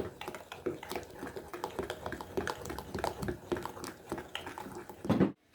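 Idli batter being mixed in a bowl, soft rhythmic wet squishing and light clinks of a spoon against the bowl, close and fairly quiet, ending in a brief louder knock.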